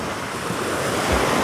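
Waves wash onto the Sea of Azov shore at Golubitskaya on a morning beach, a loud, steady surf roar with wind rushing across the microphone and no voices.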